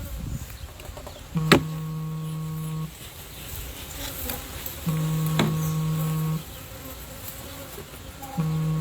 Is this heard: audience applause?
no